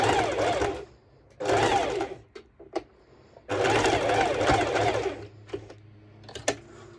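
A domestic sewing machine runs a straight stitch through fabric for a DIY cowl neck dress, in several whirring bursts separated by pauses with a few faint clicks, close and clear.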